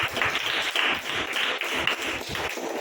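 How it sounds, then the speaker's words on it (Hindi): A church congregation claps hands together in a dense, rhythmic patter, loud and close, with steady beats running throughout. "ताली बजाओ ना।"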